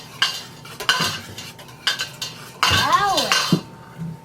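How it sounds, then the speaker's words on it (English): A utensil stirs salt into a pot, making close, loud clinks and scrapes in uneven bursts, with a brief squeaky vocal sound partway through. "Okay, stir the salt in."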